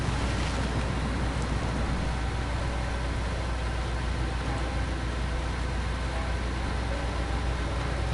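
A heavy truck from SnowRunner with one of the game's more powerful engines drives through the Yukon, giving a steady, loud broadband engine drone mixed with rushing wind-like noise that continues unbroken throughout.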